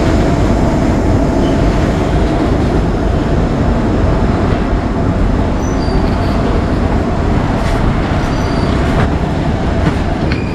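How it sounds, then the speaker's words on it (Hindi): A heavy coal-loaded freight train rumbles past close by in Kharsia, Chhattisgarh, a steady loud roar of rolling wheels with faint clatter and occasional high squeals throughout. "यहाँ पर देख सकते हैं माल लोडेड गाड़ी जा रहा है।"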